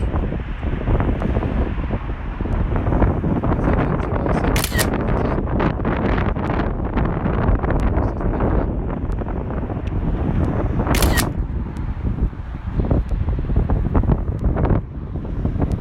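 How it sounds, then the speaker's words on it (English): Strong wind buffets the microphone in a constant roar, with a couple of sharp clicks standing out above the rumble. "it's getting a bit windy"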